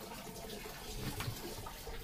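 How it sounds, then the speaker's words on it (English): Faint, steady trickle and splash of water draining from a MerCruiser boat engine during winterizing, soft and continuous with slight gurgles, no talking. "this one's still draining quite a bit of water in here."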